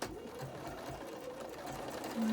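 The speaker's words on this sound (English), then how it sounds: "And we're top stitching, so we're gonna stitch real close to the edge." A sewing machine topstitches close to the edge of a fabric face mask with a pocket, its quiet rapid stitching hum running steadily throughout, rising slightly louder at the end.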